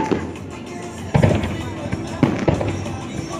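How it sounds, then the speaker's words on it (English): Fireworks bursting over Navy Pier, a run of booming explosions and crackles at moderate distance, with people talking nearby. "Okay, fireworks."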